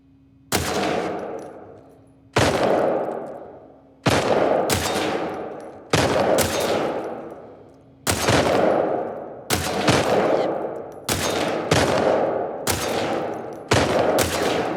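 Gunfire from The Last of Us Part II rings out as nine loud, separate shots spaced a second or two apart, each ending in a long echoing decay, with no voices over them.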